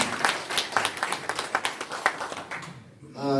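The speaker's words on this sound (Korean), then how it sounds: "우리 박수로 하나님께 영광을" A church congregation applauds during a sermon: a brisk run of many close hand claps in quick, uneven succession, thinning out and fading near the end, where a voice begins speaking.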